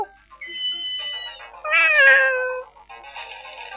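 A cat in the video game Ghost Trick meows several times in a clear, close, tonal call, one drawn-out and rising, with no talking.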